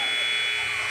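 An end-of-quarter buzzer sounds at a high school girls' basketball game in a gym, a steady electronic tone holding for the full second at moderate loudness.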